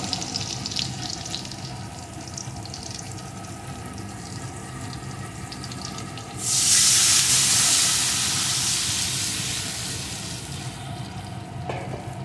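Fried potatoes sizzle gently in a hot pan, then water hits the pan with a sudden loud hissing burst of steam that slowly settles back into a bubbling simmer, close up with no talking.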